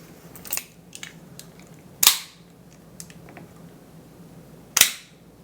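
An automatic out-the-front knife fires its blade open with a sharp, crisp snap, heard three times at spaced intervals, each a short bright click standing alone against a quiet background.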